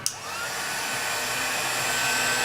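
A hot air dryer blows steadily and close by, drying a freshly applied craft layer on an altered magnifying glass. A short click starts it, then the continuous whirring rush holds without any talk.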